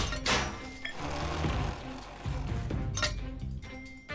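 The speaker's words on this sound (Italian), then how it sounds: "Argano!" A rescue vehicle's winch in a cartoon runs with a mechanical whirring and clicking, rising and falling in bursts with a few sharp clinks, close and moderately loud.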